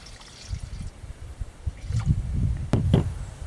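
Water pours into a pot of baby spare ribs, a steady trickle with splashy bursts that grows louder toward the end, heard alone at close range.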